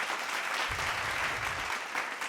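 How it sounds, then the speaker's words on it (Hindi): Audience applause welcoming guests onto the stage at a road safety event in Kanpur, a steady dense clatter of clapping, with a low rumble of handling noise through the middle. "प्लीज तालियों के साथ इनका"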